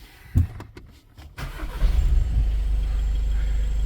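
A Volkswagen Passat B8 2.0 TDI diesel engine, with a diesel particulate filter fault P2002, cranks with a few clunks, then catches and settles into a low, steady rumbling idle close by.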